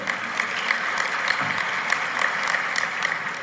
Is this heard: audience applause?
yes